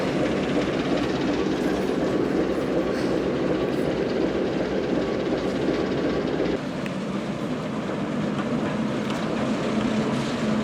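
A heritage railway train rolls forward along the Cholsey to Wallingford line with a continuous rumbling drone, steady wheel noise and a slight change in tone partway through, heard from on board.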